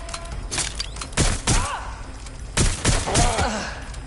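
Gunfire from a suspect in a video game bursts in two clusters of sharp thuds and cracks, with a groaning voice and other game sounds between them.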